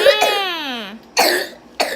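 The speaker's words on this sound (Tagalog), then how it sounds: "Ubo ka pa rin." A baby with a cough and cold lets out a drawn-out whiny vocal sound, then gives two short, rough coughs, close to the microphone with quiet gaps in between.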